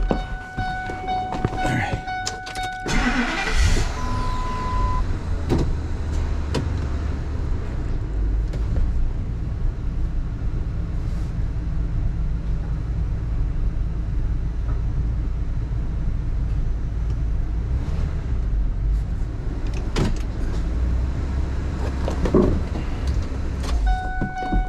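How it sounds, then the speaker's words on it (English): A truck starts up and creeps forward inside a workshop, its engine making a steady, close low rumble for most of the stretch. A few clicks and metallic jingles come early on. "I do want to move the truck forward just a bit"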